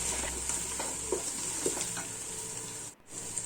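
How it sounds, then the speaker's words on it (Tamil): Four or five green chillies fry in a pan for prawn pulao, a steady close sizzle with occasional soft stirring scrapes, then a brief dip to near silence just before the frying hiss returns. "அதையும் அது கூட நான் வந்து சேர்த்துக்கிறேன். அதையும் நல்லா வதக்கி எடுத்துடலாம்."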